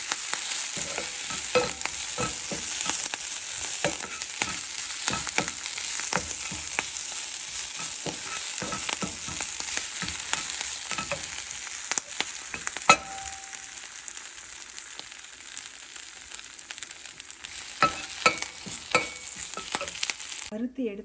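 Onion and brahmi leaves sauté in a hot pan for chutney, a steady close sizzle and fry broken by repeated scraping stirs of a spoon against the pan, with no talking.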